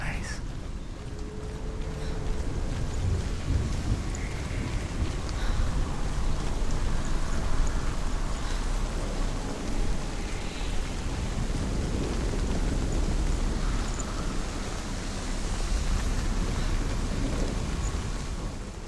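Steady rain hiss fills a scene in the video game Hellblade: Senua's Sacrifice, a continuous broadband wash with low rumbling wind underneath, a voice speaking faintly over it.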